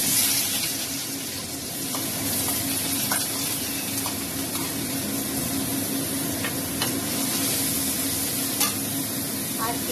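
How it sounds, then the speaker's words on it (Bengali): Chopped onions hit hot mustard oil in a pan, giving a steady, close sizzle of frying with scattered soft clicks of stirring, with no voices over it. "তেলটা গরম হয়ে গেছে, এর মধ্যে আমি কুচানো পেঁয়াজগুলো দিয়ে দিলাম।"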